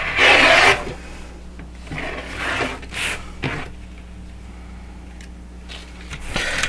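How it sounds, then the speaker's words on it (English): A rotary cutter slices through fabric guided along a ruler on a gridded cutting table, giving a loud rasping cut at the start and then quieter scraping passes with some handling noise between them. "so that I can get a clean cut. Open rotary cutter."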